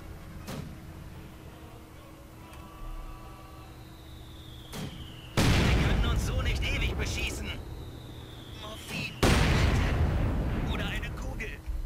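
Mortar fire in the WWII strategy game Company of Heroes 2: two heavy, loud blasts with long rumbling tails, set against quieter battlefield ambience and someone talking in German.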